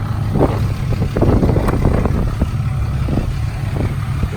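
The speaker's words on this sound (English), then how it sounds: "You can hear that exhaust brake trying to come back in." A 6.7 Cummins truck with a 5-inch straight-pipe exhaust runs as its exhaust brake cuts back in, giving a loud, steady, rumbling drone with rough pulsing throughout, close by and without talk.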